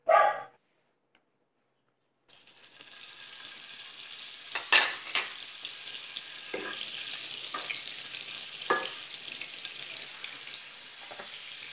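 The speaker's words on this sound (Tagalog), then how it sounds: "So ngayon naman, magigisa na tayo." Vegan butter sizzles in a hot pan, a steady frying hiss that starts after a brief silence, broken by a few clanks of a utensil against the pan, with no one talking.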